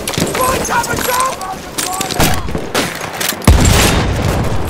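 An artillery barrage lands during a Rush multiplayer battle in Battlefield 1. Loud, close booms and crackling gunfire fill the clip, and a heavy blast hits about two-thirds of the way through.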